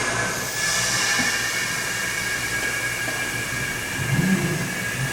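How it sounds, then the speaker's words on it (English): Vevor air jack with a telescoping rod raising a truck, giving a steady loud pneumatic hiss and mechanical whine throughout, with a low rumble rising briefly near the end. "Oh, you can hear that telescoping rod."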